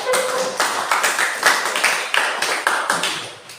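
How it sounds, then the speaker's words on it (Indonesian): Classroom applause from a class of eighth-grade students, a steady patter of many hands clapping together at close range for a few seconds, with no talk over it. "Berikan aplaus dulu untuk"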